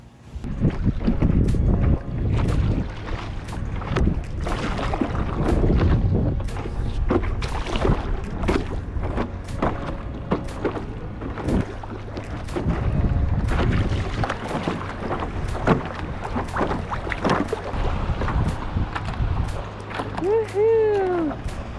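Stand-up paddleboarding on the sea off Anguilla: water swishes and splashes under steady, heavy wind noise on the microphone, with a short voiced call near the end.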